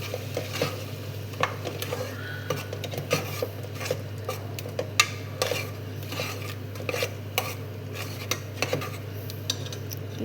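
Palak masala is stirred in a pan with a metal spoon, giving repeated clinks and scrapes against the pan in an irregular rhythm over a low steady hum, close up, with no voices.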